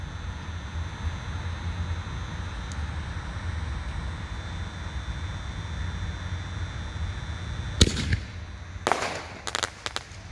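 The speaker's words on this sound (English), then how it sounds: "Premium Artillery Shell by Dominator, shell number 2." Dominator Premium Artillery Shell fireworks going off outdoors: a steady background hiss, then one sharp loud bang followed by a cluster of crackling bursts and pops near the end, no voices.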